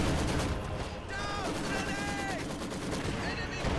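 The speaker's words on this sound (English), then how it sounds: "Incendiary artillery deployed here in the trench" Incendiary artillery fire rumbles in a strategy video game battle over a trench, a dense, continuous roar of explosions and crackling gunfire with whistling shells, loud and sustained throughout.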